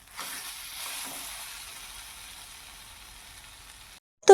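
Fried shrimp tossed with taro leaves in a pan give off a faint, thin hiss that swells briefly early and then fades steadily, ending with a short louder knock.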